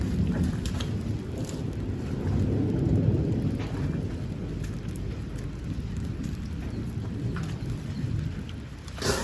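Steady heavy rain pours throughout, with low rolling rumbles of thunder swelling in the first few seconds and then continuing under the downpour; no voices.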